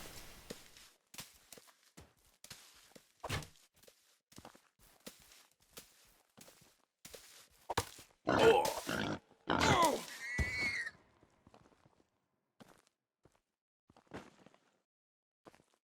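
Wild boars in the video game Medieval Dynasty grunt and snort in several short bursts, a louder cluster of squealing grunts in the middle, with soft footsteps and quiet gaps between.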